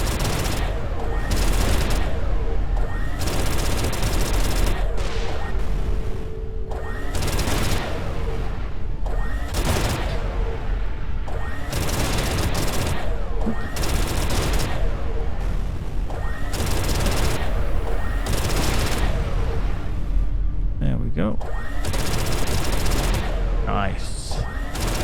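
Ship weapons in Everspace 2 fire repeatedly at a minefield, with regular heavy bursts and blasts pounding at a steady rhythm throughout, loud and close, and a voice talking over them.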